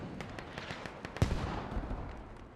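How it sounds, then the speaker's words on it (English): Mortar rounds fire and land in a military shooter game set in Quebec, heard as a quick series of muffled distant pops followed by one heavier thump with a rumbling tail. "This is the power of the mortars, guys. It's one mortar tube."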